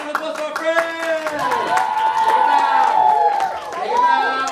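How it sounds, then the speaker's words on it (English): Audience applause follows an elementary school production of A Midsummer Night's Dream, a patter of clapping heard near and steady beneath bright, sustained voices that carry through the whole stretch. "Round of applause for our friends."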